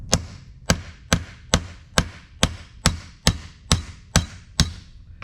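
Hammer tapping a 1/2 or 9/16 inch socket to drive out a trunnion, eleven sharp, evenly spaced metallic strikes, loud and close, each with a short ringing decay.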